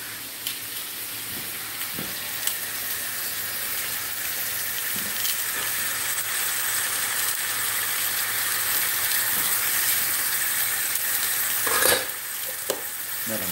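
Ground chuck beef browns in a pot with a steady, even sizzle that runs throughout, broken only by a few faint clicks and scrapes.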